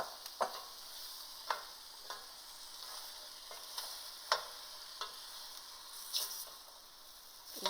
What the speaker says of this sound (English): Add in your string beans. The string beans require a lot of time to cook